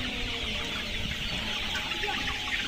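Layer hens of the Kazi Farms Highland breed, a 70-day batch, cluck continuously in a poultry shed in Nilphamari, Rangpur, a busy overlapping chorus of many birds close by, no voices.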